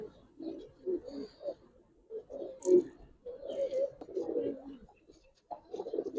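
A pair of jolla-eyed Giribaz pigeons, flying breed, coo in soft, low, repeated bursts close by, with short pauses between calls and faint background noise.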